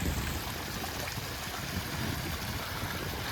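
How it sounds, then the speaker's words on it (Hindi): Hot water from a natural hot spring on a snowy winter trek at Kheerganga pours steadily, a continuous close rushing wash of water with no voices. "ये गर्म पानी आ रहा है सारा का सारा"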